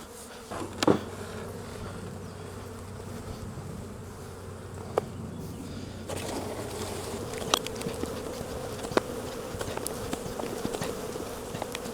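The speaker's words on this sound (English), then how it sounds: "Right, get rid of the flying bees," Honeybees flying around hives during a beekeeping inspection, a constant close buzzing drone throughout with occasional louder passes and faint handling knocks.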